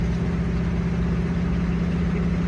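An AMC Ambassador Brougham engine runs steadily at idle, a close, even low rumble with no voices over it.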